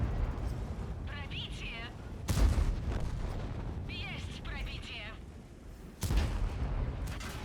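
Heavy gunfire and artillery shots boom in a tank video game, with three loud blasts spaced a few seconds apart over lower battle rumble, while someone talks between them.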